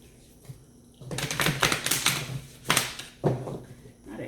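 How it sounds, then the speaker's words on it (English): A deck of playing cards is shuffled in close, loud rattling bursts, one long riffle followed by two shorter flurries, with quiet gaps between them. "sometimes I could be pretty loud with the shuffling"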